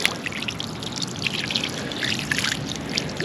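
Water trickles and dribbles steadily through a small ancient stone channel outdoors, a close, continuous bubbling wash with sparkling high splashes and no talk.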